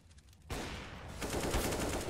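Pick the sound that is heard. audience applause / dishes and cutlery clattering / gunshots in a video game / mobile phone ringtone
gunshots in a video game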